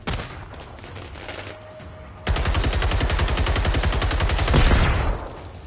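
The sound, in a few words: gunfire in the video game Generation Zero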